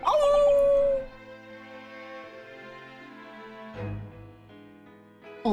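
A dog in The Great Ace Attorney 2 video game lets out a loud howl, then trails into long, soft whimpers, with another brief whine partway through and a short yelp at the end.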